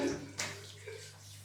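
A Gillette Tech razor being rinsed under water, a short splash and swish over a steady low hum, close and brief.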